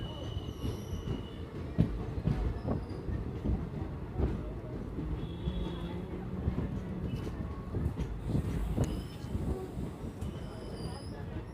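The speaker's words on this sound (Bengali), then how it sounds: "তো বন্ধুরা ট্রেন আমাদের এসছে মোরগ্রামে" An ICF-coach passenger train on the Rampurhat to Azimganj line rolls along the rails near Morgram, a continuous heavy rumble with rattling wheel clatter and occasional high squeals. Faint voices sit underneath.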